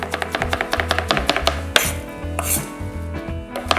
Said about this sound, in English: Okay, so now that I have my knife, I will chop this up.